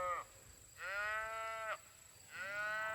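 Cattle on a hot day near a farm pond bellow in three long moos, the first brief, then two drawn-out calls close by, with a steady high whine running underneath.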